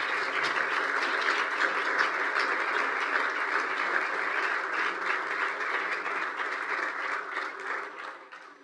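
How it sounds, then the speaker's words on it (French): A conference audience breaks into sustained applause welcoming speaker John Lipsky, a thick, even roar of many hands that holds steady for several seconds before tapering off at the end. "Je voudrais un tonnerre d'applaudissements pour la personne qu'il est"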